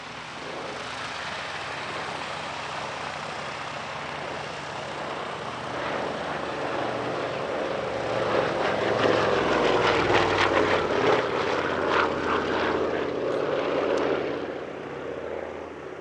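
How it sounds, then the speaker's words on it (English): A twin-engine Avro Anson, the British wartime trainer, flies past at a countryside airshow, its propeller drone swelling steadily to a loud close pass around the middle before easing off, with no voices. "the Anson is the most produced twin-engine British aircraft of all time"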